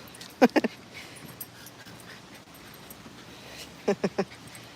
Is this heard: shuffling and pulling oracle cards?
no